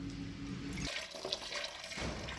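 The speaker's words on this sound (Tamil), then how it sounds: "தண்ணி ஊற்றியாச்சுங்க." Water poured into a vessel while making cold-pressed castor oil, a faint, close splashing and trickling with a brief drip-like change in the middle.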